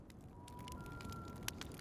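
A video game open fire crackles softly and steadily in the background, with scattered faint pops and one sharper snap near the end, and no voices.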